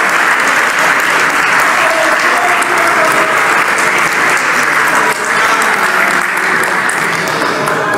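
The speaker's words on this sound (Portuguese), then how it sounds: "Vocês podem aplaudir a Jesus Cristo, adoradores," A church congregation applauds steadily and loudly throughout, a dense continuous wash of clapping with some voices mixed in.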